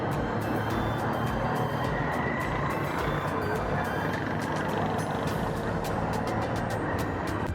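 Rush-hour street traffic in Karachi forms a dense, steady roar of engines. Rapid repeated beeping or horn taps run through it, with no pauses in the loud mix.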